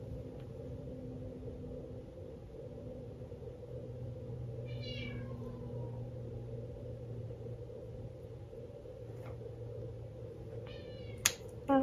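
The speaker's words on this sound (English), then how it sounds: "Do you guys hear my cat crying in the background?" A cat meows a few times in the background, short rising cries over a steady low rumble, with a sharper pair of calls near the end.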